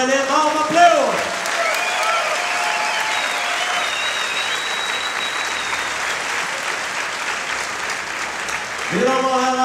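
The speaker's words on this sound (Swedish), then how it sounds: "kan vi ge de här två krigarna in i buren en varm applåd?" A large crowd at an MMA event applauds steadily and loudly, a dense wash of clapping with scattered shouts and cheers that swells again near the end.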